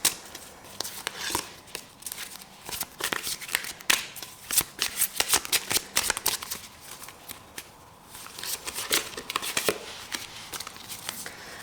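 A deck of tarot cards is shuffled and cards drawn at close range, with bursts of riffling flutter and crisp slaps and flicks in an uneven rhythm over about twelve seconds, with no talking.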